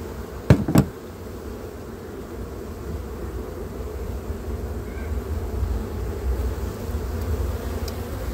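Honeybees buzzing around a hive frame during autumn beekeeping, a soft continuous drone of many insects close by, with a couple of sharp knocks near the start.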